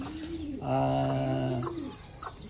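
Racing pigeons in a loft give a soft, throaty coo lasting about a second, close by, with faint rustling and background bird sounds around it.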